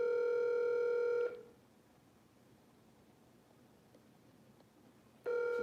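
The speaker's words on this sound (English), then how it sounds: "I have a phone call I got to deal with" A telephone rings for an incoming call in a steady electronic tone: one long ring, a pause of about four seconds, then the next ring starting. It is loud and close, with no voices.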